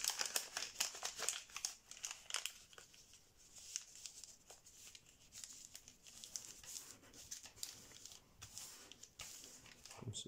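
Paper crinkles and rustles up close as it is creased into a squash fold for an origami blue shark, a quiet run of irregular crackles and soft scrapes with no talk.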